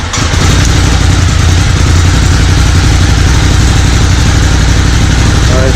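A 2018 Ducati Monster 821 motorcycle engine idles loudly and close by, a steady, throbbing rumble that holds constant from start to finish.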